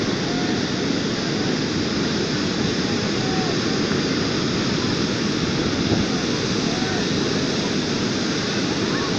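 Sea waves breaking steadily at a beach where sardines are being prepared, a continuous loud broadband wash of surf with no pauses, heard alone without talk.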